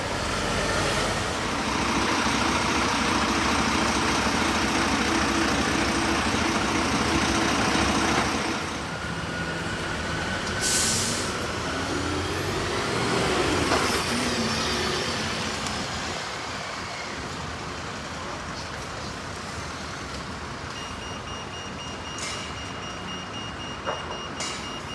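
A Volvo B7RLE Wright Eclipse Urban bus in first-generation livery idles in a Bristol suburb with a loud, steady engine drone that eases after a few seconds, then a sharp hiss of air brakes and a faint rising whine.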